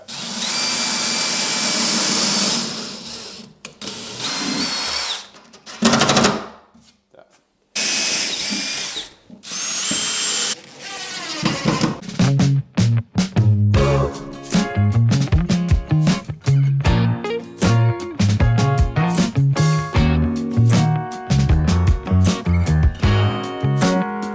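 A power drill fitted with a countersink bit whirs loudly in several bursts with short pauses between them, then gives way to music with steady melodic tones.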